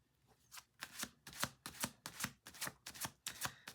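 Cards being shuffled in quick, rhythmic riffles, about nine crisp bursts in a steady pattern, close up with no talking.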